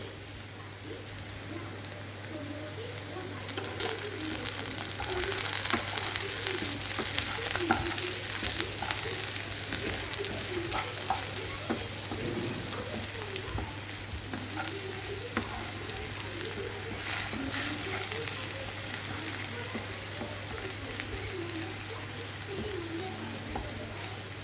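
Steady, crackling sizzle of semolina frying in a pan for upma, with occasional stirring scrapes, continuous and close throughout.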